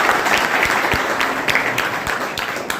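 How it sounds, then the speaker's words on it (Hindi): Steady applause from an audience at a teacher training seminar at a school, dense clapping running the full length at a fairly loud, even level. "अगर है तो इतनी जोर से ताली बजाओ कि तायद हो जाए कि मैं सही कह रहा हूं।"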